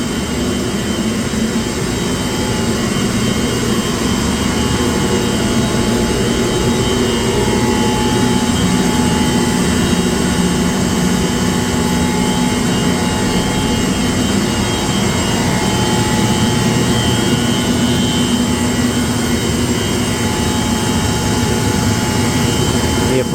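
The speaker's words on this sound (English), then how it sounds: "I said these are big chillers." A large industrial chiller plant running indoors, a loud, steady, roaring drone with sustained humming tones that holds level throughout.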